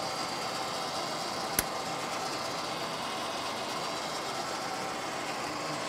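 A Warner Swasey #2 turret lathe turning an outside diameter with a box tool, giving a steady, moderately loud machine hum that holds evenly throughout, broken by one sharp click partway through.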